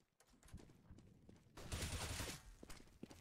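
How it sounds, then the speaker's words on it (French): Counter-Strike gunfire on the Cache map during a professional match, heard as faint, rapid bursts of shots with a louder volley in the middle, quiet overall. "Happy qui va voir Device mais qui va malheureusement tomber sous ses balles"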